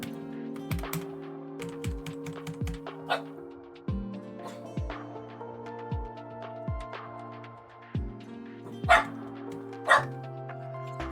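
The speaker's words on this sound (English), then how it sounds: "Dog, please stop barking at me." A dog in Girl's Frontline 2 barks in short repeated yaps, steady and fairly close, alongside rapid keyboard typing clicks and a sustained low musical tone.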